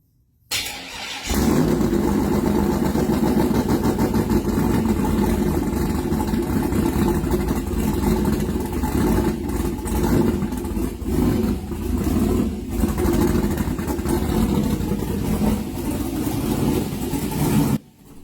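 A turbocharged LS V8 in a Fox-body Mustang, fitted with only a flexplate and starter and no transmission, fires up and settles into a loud, steady, rumbling run close by for the rest of the clip before cutting off.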